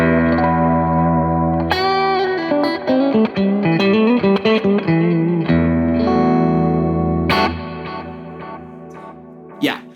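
Electric guitar notes and chords through a tape delay pedal wash into warm, wobbly repeating echoes, building an ambient swirl that trails off into a final strum.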